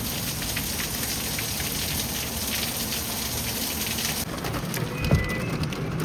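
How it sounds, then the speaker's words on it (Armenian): Steady rain drums on a surface, a dense even wash that softens after about four seconds, with a brief louder knock near the five-second mark that could be hail striking. "Անձրևից պրծանք հիմա էլ կարկուտ է գալիս։"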